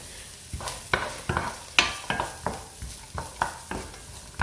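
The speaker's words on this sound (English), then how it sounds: "Onion frying off nicely." Onion sizzling in a pan, stirred repeatedly with a utensil that knocks and scrapes in a regular rhythm, close by.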